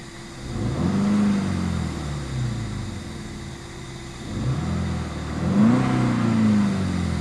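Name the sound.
Volkswagen Polo GTI engine revving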